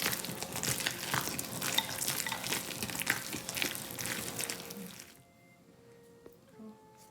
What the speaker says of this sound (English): Alright, so I'm pretty much done stirring my dough.